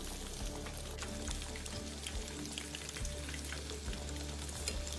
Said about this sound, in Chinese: 整个完整油炸过程约10分钟左右，煎中必须不停将肉块翻面